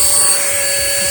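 A small vacuum gives a brief, steady high-pitched whine as it sucks up a leaf-footed bug in a garden, heard up close and alone.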